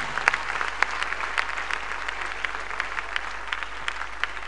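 A church congregation claps at a Ghana healing and impartation service, a steady crowded patter of many hands with a few sharper claps standing out, heard over a constant low hum.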